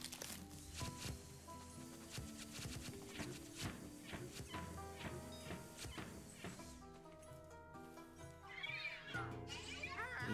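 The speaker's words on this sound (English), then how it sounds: "And there's the polter kitty." The Polterkitty ghost cat in the video game Luigi's Mansion 3 meows over busy game music and effects, with a person talking.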